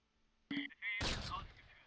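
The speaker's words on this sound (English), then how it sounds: "Rifle fire. They are shooting at our infantry somewhere." Rifle fire in the Close Combat war game, a sudden sharp crack followed by a short ringing decay after a brief electronic tone, moderately quiet and heard alone.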